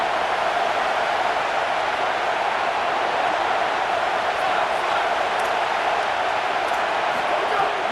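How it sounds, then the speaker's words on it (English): Stadium crowd noise roars on third down in EA Sports College Football, a dense, steady wall of cheering that stays loud and unbroken throughout, with no distinct voices standing out. "This dog crowd is off the leash, and they are coming after them, bringing noise on third down."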